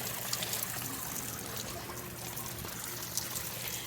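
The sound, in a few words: garden waterfall trickling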